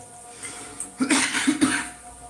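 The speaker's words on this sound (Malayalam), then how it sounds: "എനിക്ക് ശരിക്കും പറഞ്ഞാൽ ചുമയുണ്ട്" Two short, harsh coughs close by, a half-second apart, with a faint steady hum underneath.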